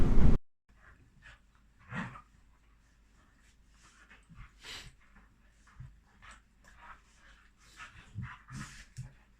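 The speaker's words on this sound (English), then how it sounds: "jump around biting at him and he'll try and fight back" Dogs scuffle and play, with bursts of panting, snuffling and soft whimpers between quiet pauses, close to the microphone.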